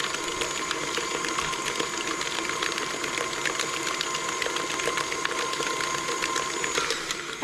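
Electric hand mixer whirring steadily as it whips cold cream cheese for a pumpkin gooey butter cake, a constant buzzing motor drone with slight rattling, running loud and unbroken throughout.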